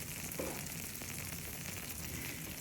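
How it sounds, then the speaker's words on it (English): Steady, close frying sizzle of creamed corn with a continuous crackling hiss, no voices, holding evenly throughout. "that sizzle is what I live for"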